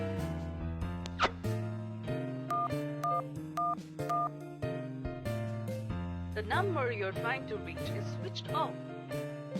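A telephone number being dialed, a series of distinct keypad tones in uneven rhythm, clear and close, with a person's voice speaking over part of it.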